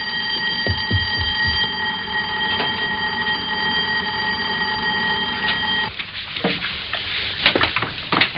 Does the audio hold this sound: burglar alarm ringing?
yes